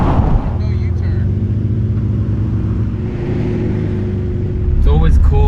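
A Nissan Skyline GT-R R33 known as the DAI33 drives fast, its engine droning steadily and loudly from inside the cabin, then climbing into a sharper rev near the end. A voice speaks over the engine noise.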